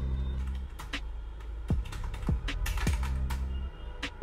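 Typing a prompt into ChatGPT on a computer keyboard, with irregular clusters of close key clicks over a low steady hum and a few sharper taps, and no voice.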